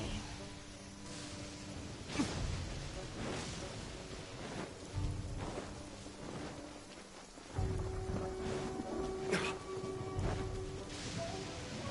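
Steady rain falls in Genshin Impact's Inazuma region, a soft continuous patter of drops on surfaces with occasional louder swells and faint low rumbles.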